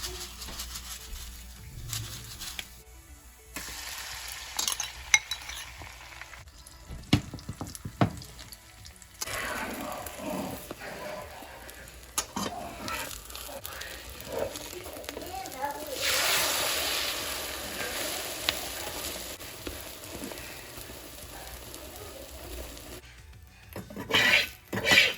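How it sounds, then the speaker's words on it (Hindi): Egg bhurji made with five eggs, onion and chili cooks in a pan with an uneven sizzle, clinking utensils and pan clatter, while a voice talks at times. "यहाँ बन रहा है 5 अंडे का एग भुर्जी"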